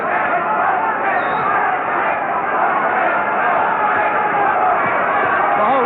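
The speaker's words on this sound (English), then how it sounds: "The whole of this crowd now jumping to their feet and cheering these boys on now" A boxing arena crowd rising to its feet and cheering during a bout, a dense, steady roar of voices and shouts throughout, with a commentator talking over it.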